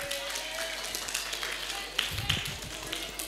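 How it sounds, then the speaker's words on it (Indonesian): Students in a school leadership-training session at a Muhammadiyah junior high clap together in a classroom, a steady, dense patter of hands that swells briefly in the middle before settling. "Tepuk tangan dulu."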